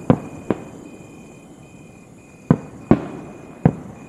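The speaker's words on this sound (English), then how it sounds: "I fuochi di artificio." Several sharp cracking bangs, two close together near the start, then three more spaced apart, with a faint steady hum between them.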